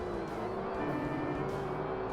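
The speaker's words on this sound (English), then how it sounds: "Hear the engine roar." A TVR Tuscan engine drones steadily at moderate revs while racing in Forza Motorsport, a continuous low roar heard fairly faintly and alone.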